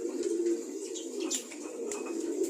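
Female pigeons feeding together on grit, cooing softly and repeatedly in low, rolling tones, with light pecking and rustling scattered over a quiet indoor background.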